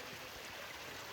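Water flows steadily near a waterfall on a trekking trail, a faint, even rushing hiss with no breaks.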